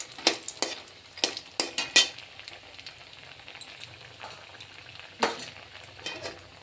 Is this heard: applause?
no